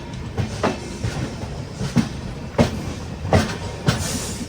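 An express train in sleeper class rolls steadily along the rails with a constant low rumble. Rhythmic clickety-clack wheel beats land about every second, close and clear, and no one talks.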